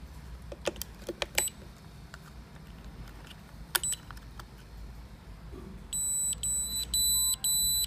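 Four electronic beeps from an OS8815 logger near the end, signaling its return to function mode, following faint clicks and handling noise in a quiet room.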